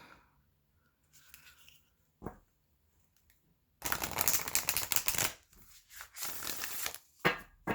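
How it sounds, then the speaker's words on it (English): Tarot cards being shuffled up close: a quiet riffle, a sharp tap, then a long, loud shuffling burst followed by shorter shuffles and a final slap. "One more shuffle."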